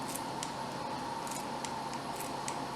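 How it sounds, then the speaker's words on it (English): Scissors snip through a balled-up bunch of fresh oregano leaves, a series of quick, crisp close cuts in an irregular rhythm, faint and without talking. "So I just kind of ball that up like that and just snip away"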